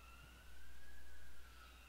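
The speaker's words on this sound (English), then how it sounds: "some sirens over there." A faint siren wails in the distance, a thin steady tone that swells slightly for a moment before fading back into low background hum.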